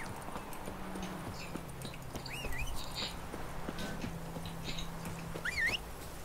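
Steady clip-clop of horse hooves at a walking pace in a video game, fairly close, with a few faint bird chirps and a soft synthetic swoosh near the end.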